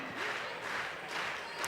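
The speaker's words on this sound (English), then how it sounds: "Crowd getting behind the athletes." A crowd at a bouldering semi-final cheers on the climbers, a brief dense wash of applause and cheering swelling and easing over a couple of seconds.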